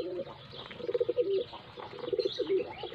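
Pigeons coo nearby in soft, throaty rolling bursts, two clear phrases over faint background noise, with no talking.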